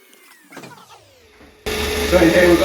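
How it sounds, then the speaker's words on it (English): A vacuum cleaner in a factory's dry production area, near a capsule machine, starts up abruptly after a quiet stretch with faint voices, then runs as a loud, steady, broad roar. "Just turn that vacuum off."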